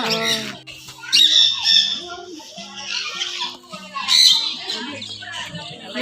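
Exotic birds at a bird park squawk loudly in repeated harsh bursts close by, mixed with chattering calls and faint flapping, while people talk nearby.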